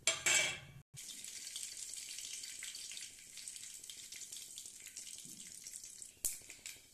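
Panch phoran spices fry in hot oil with cardamom husks and bay leaf for a kadhi, a faint, steady sizzle following a brief clatter at the start and a sharp tap near the end.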